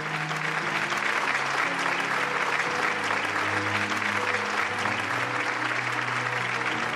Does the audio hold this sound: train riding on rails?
no